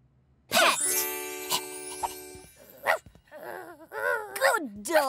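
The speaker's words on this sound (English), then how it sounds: "Good dog!" A cartoon dog in a children's phonics show barks and yips a few times in short bursts, mixed with animated voices and sound effects.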